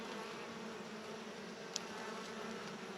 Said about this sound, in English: There are a lot of bees here.